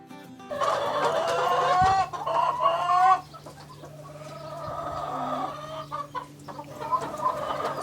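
Chickens in a backyard chicken yard cluck and chatter in overlapping bursts, a rooster-like call rising among them, close and fairly loud over a steady low hum.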